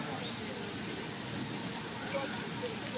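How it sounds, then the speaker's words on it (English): An artificial rain effect pours down on a Universal Studios flash-flood set, a dense, steady hiss of falling water filling the whole scene at an even level throughout. "There's a lot of rain there."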